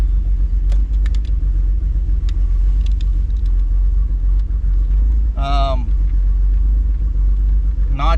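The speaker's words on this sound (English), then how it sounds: "maybe she's just sitting here idling and not getting warm" A car engine idles after a cooling-system repair while its temperature gauge stays low, a low steady rumble filling the scene with a couple of brief higher squeaks over it.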